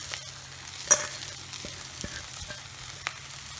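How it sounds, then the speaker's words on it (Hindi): Poha flattened rice tumbled into a pan with turmeric and stir-fried, giving a soft steady sizzle with a few scraping spoon knocks and light clatters, close by with no talking. "अब हम इसमें पोहा डाल देते हैं"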